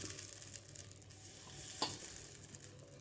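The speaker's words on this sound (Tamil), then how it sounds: "இப்போது கல் சூடாயிடுச்சு மாவு எடுத்து ஒரு அரை குளிக்கு மட்டும் ஊற்றிக்கலாம்" Idli batter poured into a hot mini egg appam pan gives a soft, steady sizzle and frying hiss, with a brief sharper crackle partway through, heard close with no talking.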